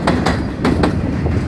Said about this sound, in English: Here's an out-of-service A train of R46 cars coming up Pickett Yard.